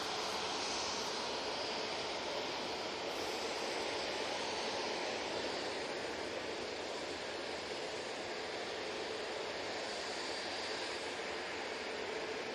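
A Jet2 Airbus A321neo departing Manchester Airport, a broad, steady jet roar heard from a distance that holds at an even level throughout with no voices.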